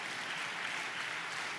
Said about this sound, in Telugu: అందరం చప్పట్లు కొడుతూ ప్రభు వారికి స్తోత్రాలు చెప్తాం.